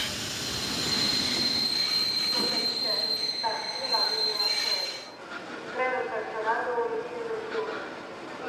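Locomotive-hauled train departing Cluj station in Transylvania toward Oradea, with a long, piercing wheel squeal over rolling rumble, followed by rhythmic clanking of wagons; people talk faintly nearby.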